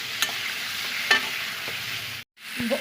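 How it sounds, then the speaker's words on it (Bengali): Spice paste with coriander and cumin powder frying in a pan as it is stirred, a steady close sizzle with a few sharp scrapes and a brief silent gap near the end. "দিয়ে এটা ভালো করে কষিয়ে জল দিয়ে দেবো"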